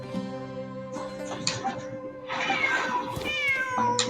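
Cat meowing in the video game Genshin Impact, several short clear mews rising and falling over soft game music, close and distinct with no talking.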